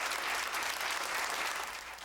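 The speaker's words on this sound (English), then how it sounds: "these city and county officials are cheering the Uptown Stadium decision, standing and cheering" City and county officials applaud the Uptown Stadium decision, a dense, steady burst of clapping from a group that holds strong for about two seconds before easing slightly.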